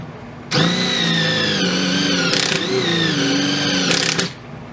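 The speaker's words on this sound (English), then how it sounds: "I'm going to use this drill bit, which is about 90 degrees, to do the cut." A drill bit with a roughly 90-degree point cutting into the primer pocket of a 12-gauge shotgun shell held on a wooden block. A loud, steady motor whine runs for about four seconds, with brief harsher bursts as the bit bites.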